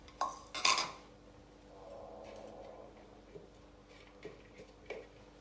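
Rice and chopped vegetables mixed together in a bowl, starting with two sharp clinks of a utensil against the bowl, then a soft brief scrape and a few quiet taps at a low level.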